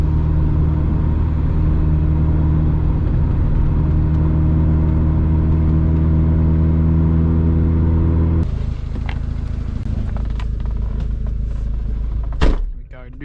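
Mazda MX5 MK2 cruising in fifth gear on a UK road at night, a steady low engine hum and road rumble that shifts to a rougher, noisier tone partway through, with a thunk near the end and someone talking over it.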